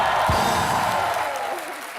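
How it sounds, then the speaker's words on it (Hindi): Studio audience applause for Sonakshi on a comedy show, a dense loud wash of clapping and crowd noise that carries on steadily and eases slightly toward the end. "सोनाक्षी के लिए जोरदार तालियां होनी चाहिए पहले तो"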